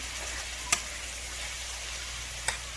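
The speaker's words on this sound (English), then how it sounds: "the steak is cooking up really nicely" Steak frying in a pan for breakfast bowls, with a steady close hiss of sizzling fat and two brief sharp pops or taps, no talking.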